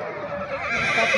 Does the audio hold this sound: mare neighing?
yes